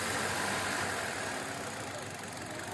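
A Hyundai Aura 1.2 Kappa petrol car with manual gearbox, 2020 BS-VI model, idles in a steady, even hum with a light mechanical clatter, close by and continuous with no talk.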